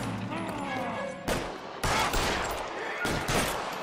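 Gunfire from a video game shootout: several sharp, loud bursts of shots crack through a busy game soundscape, with scattered volleys spaced a second or so apart.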